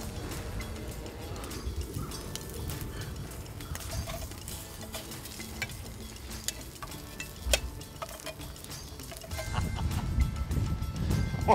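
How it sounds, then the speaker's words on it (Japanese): Bacon frying in a pan at a campsite, a soft continuous sizzle and crackle with scattered pops and small clinks, growing slightly louder toward the end. "ベーコン炒めただけなんだけどな"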